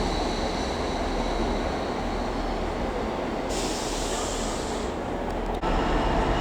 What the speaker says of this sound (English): There goes 333013 with a Northern service to Skipton.